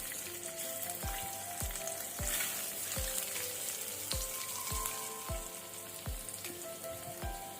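Boiled eggs fry in a pan on a low flame with turmeric, giving a steady crackling sizzle punctuated by regular soft knocks roughly every half second, close and alone with no talk.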